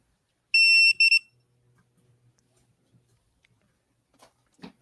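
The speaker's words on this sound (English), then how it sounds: "I think Steve was checking the circuit or something. Yeah, it's the limit switch. I have it on continuity" A multimeter in continuity mode, testing a limit switch, gives a short high-pitched beep twice in quick succession, close and sharp, followed by near silence and a few faint clicks.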